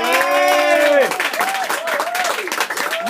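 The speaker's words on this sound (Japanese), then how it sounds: "皆さん拍手で、大きな拍手で叩いてあげてくださいね" Audience applause and cheering at a small live music venue in Koenji, Tokyo, steady and dense for the first second and continuing under a speaking voice as a band introduces its performers.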